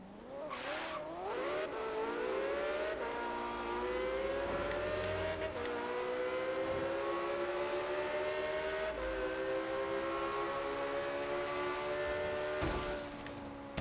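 A car accelerates hard in the racing game Forza Horizon 3, its engine note climbing steadily in pitch through the gears as one loud, continuous roar with no voices over it.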